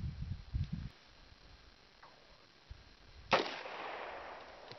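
A TT-33 Tokarev pistol fires a .30 Mauser round, heard as one sharp, fairly loud report with a short decaying tail near the end. Faint low bumps and quiet handling noise come before it.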